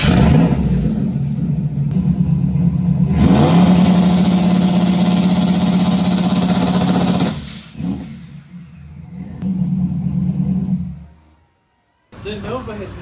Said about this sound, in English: The Nova has never spooled like that. Never has this car spooled like that.